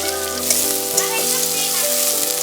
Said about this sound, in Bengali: পেঁয়াজটা এবার তেলে ভেজে নেব